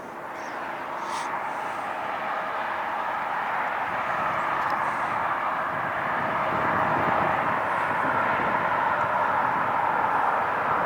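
Lufthansa Boeing 747 approaching to land at LAX in the afternoon, a steady broad jet roar that slowly builds in loudness as the airliner draws nearer, with no talk.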